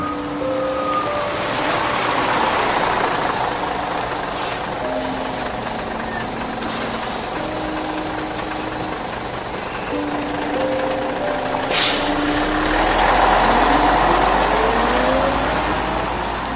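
A steady, close bus engine idles and runs with a low continuous rumble throughout, with faint overlapping voices and tonal clatter from the surroundings as it settles into travel.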